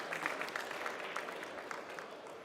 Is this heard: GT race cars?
no